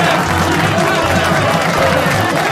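Carnival crowd at the Império da Tijuca samba school parade, steady dense noise of clapping and cheering throughout, loud and continuous as an illuminated float passes.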